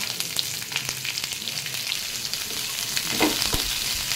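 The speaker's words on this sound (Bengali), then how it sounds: "তার মধ্যে রসুনটা লাল করতে হবে না, একটু ফ্রাই করে নিতে হবে।" Garlic fries in oil for a crispy soybean dish, a steady close sizzle with scattered pops and crackles and a short stirring scrape near the end, without speech.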